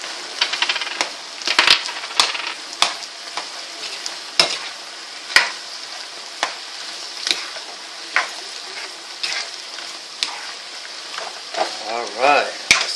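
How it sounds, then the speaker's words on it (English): Chicken with cauliflower, carrots and black bean sauce is stir-fried, producing a continuous sizzle punctuated by frequent metallic clinks and scrapes of a utensil against the pan. "Gonna put in 1 spoon of this black bean sauce. and we're gonna continue to stir it."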